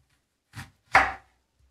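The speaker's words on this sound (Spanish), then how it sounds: "Cortamos la cebolla por la mitad" Two sharp knife chops on a cutting board as an onion is cut in half, close and crisp, separated by a brief pause in an otherwise quiet kitchen.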